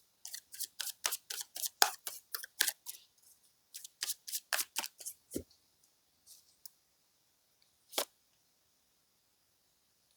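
Tarot cards shuffled in a rapid, crisp riffling patter for about five seconds, then a few scattered flicks and one sharp card tap near the end, close and clear with no talking.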